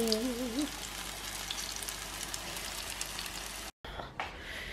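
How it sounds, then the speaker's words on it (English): Steady crackling sizzle of plantain frying in a hot pan, close up, with a brief high squeak at the start and a short break near the end. "And my plantain's frying."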